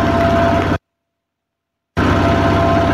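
A large generator drones steadily nearby, loud and continuous, cutting to complete silence for about a second in the middle before resuming unchanged.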